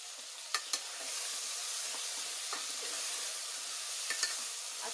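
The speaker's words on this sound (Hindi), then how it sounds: "अच्छे से हमें ये सूखे मसाले को इसमें 2 से 3 मिनट तक पका लेना।" Dry spice powders, including turmeric and salt, cook in a pan for a ridge gourd curry, giving a steady close sizzle with a few sharp stirring clicks and scrapes near the start.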